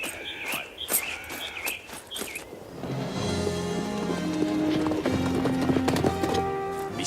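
Hooves clip-clop steadily from a team of horses hauling a wagon in a western film, a rhythmic trot that starts light, then gives way to a dense swell of orchestral music with a faint whinny in the mix.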